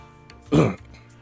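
A single short cough or throat-clear from a person recovering from illness, close and fairly loud, lasting about a quarter second, with quiet background otherwise.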